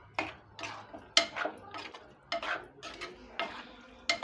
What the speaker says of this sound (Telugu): సాల్ట్ కారం వేసి ఇలా కలుపుకోవాలి